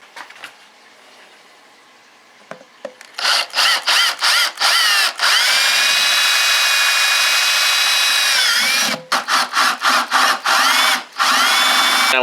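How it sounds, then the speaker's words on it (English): A power drill boring a hole in a plastic bucket for a worm composting bin. After a few quiet taps, loud stuttering trigger pulses give way to a long, steady high whine, then more short bursts. "then you can get your drill started in there"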